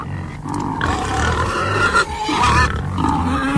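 A pig grunts and squeals loudly and close, in rough, rasping bursts that carry on continuously with brief dips, without any talking over it.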